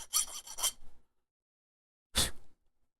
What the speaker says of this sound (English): And give them really soft edges with a file, you know?